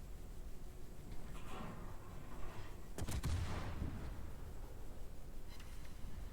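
Naval guns of the Nachi heavy cruiser in World of Warships fire a single deep booming salvo midway through, rumbling and fading against a steady background of ocean and engine noise.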